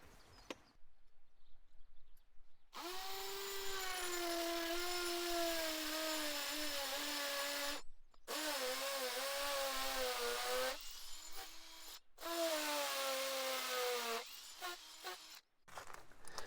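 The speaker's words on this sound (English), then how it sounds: "So I'm going to get these installed with some of these concrete screws." A cordless power drill driving concrete screws into a newly built brick wall, with long steady whining runs that rise and bog down, broken by short pauses between screws, close and loud with no talking.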